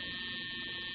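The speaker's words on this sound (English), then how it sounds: "Until the alarm goes off." An alarm sounds in a 1992 film scene, a continuous steady electronic buzz with a constant pitch, fairly faint and heard alone.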